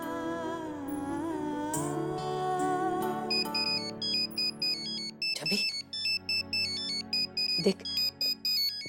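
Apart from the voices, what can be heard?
telephone ringing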